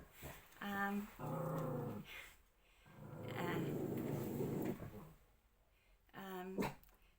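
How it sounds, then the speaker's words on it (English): A dog makes low, drawn-out growling grumbles and whiny whimpers in several separate bursts, close and fairly quiet. "Yes, my dog."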